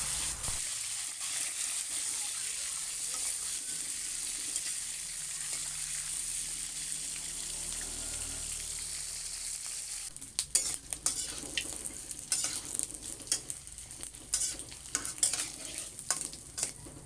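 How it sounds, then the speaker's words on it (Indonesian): Spice paste sautés in a frying pan, a steady, close sizzle, then a spoon stirring and scraping with irregular clinks in the second half. "Ini bumbunya aku tumis dulu ya teman-teman sampai baunya tuh harum ya."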